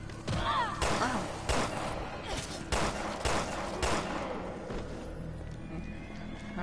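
Gunfire in Resident Evil Revelations 2: a run of loud, close shots cracking out every half second or so over a steady game backdrop, with no talking.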